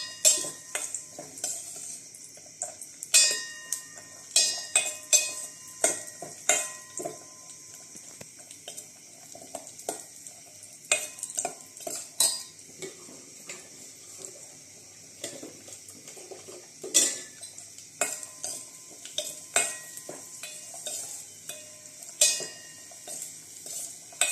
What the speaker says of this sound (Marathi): काजू बेदाणे आणि चारोळे तुपावर परतून घेऊया थोडं